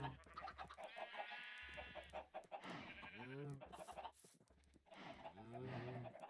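Chickens clucking in a farm setting, with repeated short calls and rising squawks mixed among people talking nearby throughout.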